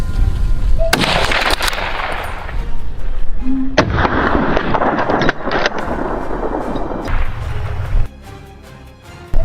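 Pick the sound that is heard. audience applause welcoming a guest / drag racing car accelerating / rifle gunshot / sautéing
rifle gunshot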